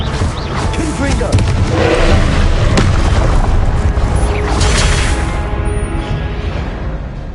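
Fiery Confringo blast spell going off in the Hogwarts Legacy video game, a loud booming crash that rolls on for several seconds with crackling debris, under game voices and music.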